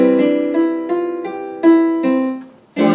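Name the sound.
piano warm-up exercise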